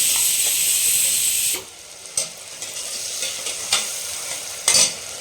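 Whole garam masala spices frying with shallots in a pot for country chicken biryani, a steady bright hiss of hot oil that drops away, then light stirring scrapes and brief sizzle bursts recur every second or so.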